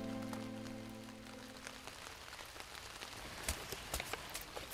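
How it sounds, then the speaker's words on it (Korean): Heavy raindrops fall steadily in a close, dense patter, with sharper individual drops striking a surface near the end; a low steady hum fades out in the first two seconds. "빗방울이 더욱 굵어지고"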